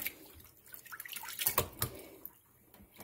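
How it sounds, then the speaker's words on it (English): A kitchen tap runs while chitterlings are being cleaned, a faint, steady trickle broken by soft splashes and drips, the water stirring loudest midway before easing off. "so I have my water back here running"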